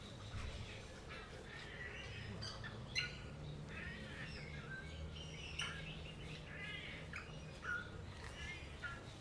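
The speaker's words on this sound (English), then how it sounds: "I just love the bird sounds." Several birds sing and chirp in a garden, with scattered tweets and calls over a faint, steady background hum; the sound is quiet and somewhat distant.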